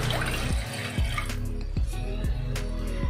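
Water is poured into a pot to cook rice, about two and a half tumblers for one tumbler of rice, with a close splashing, gurgling flow and a few small knocks.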